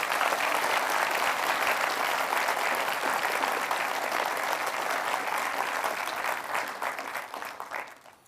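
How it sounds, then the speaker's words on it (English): At an annual general meeting, an audience gives medal winners a dense, loud round of applause that holds steady for several seconds and then tapers off at the end. "So a round of applause for all of our medal winners this year."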